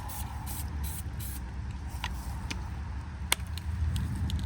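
Spray primer hissing onto an M Sport bodykit for a BMW 430i F32, several short bursts close by with gaps between them and faint background noise.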